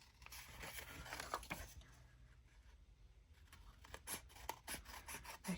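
Scissors snip through a paper picture being cut out for a junk journal, with soft, close, intermittent cuts and rustling of paper at low volume.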